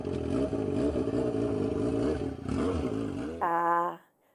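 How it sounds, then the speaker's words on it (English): Motorcycle engine revving loudly and steadily, its rough drone rising and falling, then climbing to a sharp high-pitched rev near the end before cutting off into silence. "It's a motorcycle, right?"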